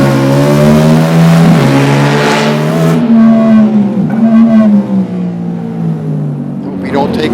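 A 1971 Camaro Z-28 race car engine revs loud and close, its pitch rising and falling through gear changes over several seconds, with someone talking over it.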